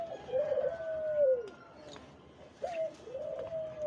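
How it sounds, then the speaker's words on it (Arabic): Turtle doves coo close by in two soft, rolling phrases separated by a short pause, with no talking. "اليمام من عائلة الحمام بالضبط"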